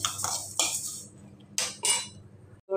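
Gongura leaves frying in a pan with a metal utensil, several sharp clinks and scraping strokes in quick bursts close by over a steady low hum, no voices.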